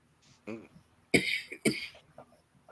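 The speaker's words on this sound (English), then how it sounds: "are you coughing down there? Yeah, I'm just trying to clear my throat" A couple of short coughs and a throat clearing, close by, in brief bursts separated by quiet.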